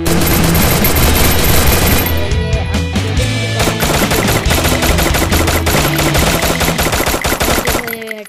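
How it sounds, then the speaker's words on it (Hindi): An MP40 submachine gun fires in a shooter video game, loud continuous rapid bursts of gunfire dominating throughout with dense overlapping game sounds. "MP40 निकालता हूँ, जाके भून देता हूँ।"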